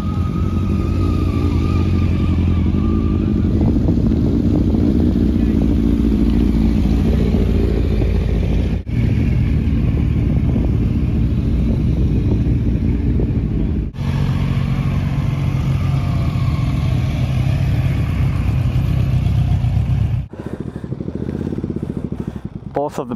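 Motorcycles, mostly road bikes, rumble and rev at a biker season-start gathering in Vaasa, Finland, a steady loud engine drone running throughout with people talking over it.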